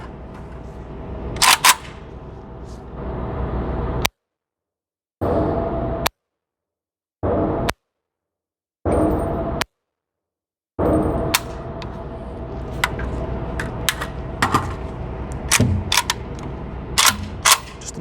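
An AK rifle fired on a range with a Gen 3 magazine fitted with a steel tab, giving a string of sharp, loud shots with uneven gaps between them and a few short silent breaks.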